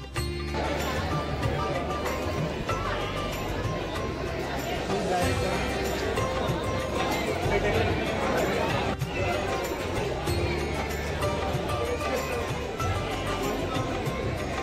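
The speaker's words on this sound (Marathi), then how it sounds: "ही एवढी गर्दी आहे" A dense crowd waiting in the temple queue at Trimbakeshwar keeps up a steady hubbub of overlapping voices and chatter, moderately loud and continuous, with footsteps and movement mixed in.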